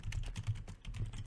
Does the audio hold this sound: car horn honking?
no